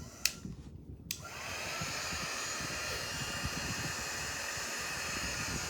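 A hair dryer switches on after a couple of clicks and blows steadily, drying paint on wooden Christmas tree shapes, a close, constant whooshing hum.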